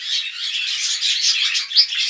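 Pet pigeons, young birds in a home flock, give a steady run of high, close chirping and squeaking calls with one sharper peak near the end, heard alone with no voices.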